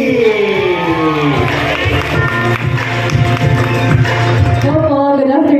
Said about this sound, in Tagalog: Yung palakpakan at hiyawan ha.